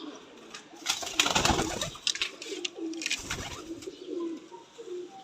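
Pigeons cooing in low, throaty repeated calls, with some rustling and flapping bursts nearby.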